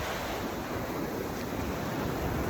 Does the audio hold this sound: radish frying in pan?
no